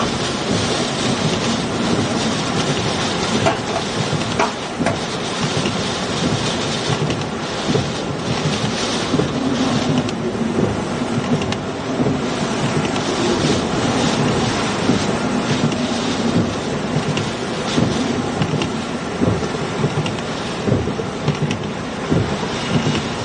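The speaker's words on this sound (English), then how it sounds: "These winds are incredibly strong right now." Strong hurricane wind roars without a break during Hurricane Helene's landfall, a loud, dense, rumbling blast that buffets the microphone for the whole stretch.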